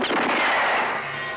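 Gunfire from a Turkish film trailer: a short, loud burst of sharp shots in quick succession, heard on its own.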